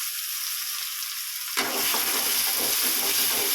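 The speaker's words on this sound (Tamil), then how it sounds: "மிக்சியில் அரைச்சி தக்காளியை ஊற்றுறேன்." Blended tomato is poured into sautéed onions in a hot pan for a brinjal and drumstick kara kuzhambu; a thin hiss suddenly bursts into a loud, crackling sizzle that continues up close.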